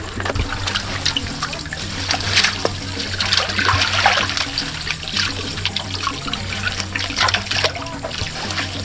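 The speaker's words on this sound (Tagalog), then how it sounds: "Pumasok na talaga yung tubig dito sa aming fish pan makalab, no?" Water gushes and trickles steadily into a fishpond used for raising shrimp and prawns, a continuous close splashing flow with a low rumble underneath and no speech.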